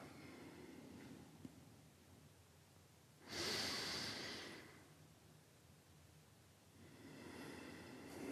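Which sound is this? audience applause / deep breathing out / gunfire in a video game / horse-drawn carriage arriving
deep breathing out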